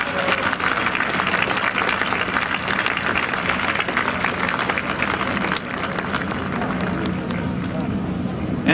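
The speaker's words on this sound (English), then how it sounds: "A big round of applause for your guidance and assistance throughout this" Large outdoor crowd at a memorial monument dedication applauding, a steady dense wash of clapping with crowd murmur and voices mixed in, fading slightly toward the end.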